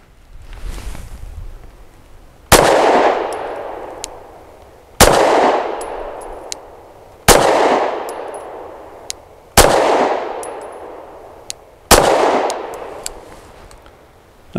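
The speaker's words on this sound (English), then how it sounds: "I'm going to start off slow fire to relearn this gun because it has been a minute" Five slow, evenly spaced handgun shots fired at a target, each a sharp loud crack with a long ringing decay, roughly two and a half seconds apart, with a faint metallic ping after some rounds.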